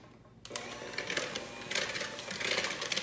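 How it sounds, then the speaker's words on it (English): An electric hand mixer on low speed starts abruptly and whirs steadily through banana bread batter, a close, continuous buzzing hum with faint rattling beaters. "And we are gonna give this a mix with the hand mixer on low."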